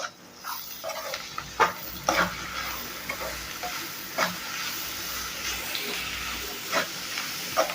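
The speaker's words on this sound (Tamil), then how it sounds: "இந்த பீட்ரூட் ரொம்ப சூப்பரான ஒரு காய்ங்க மட்டும் நல்லா வதக்கி விட்டுக்கலாம்" Beetroot and onions sautéing in a pan for beetroot rice: a constant soft sizzle, broken by a series of sharp scraping stirs of a spoon against the pan, close up and without speech.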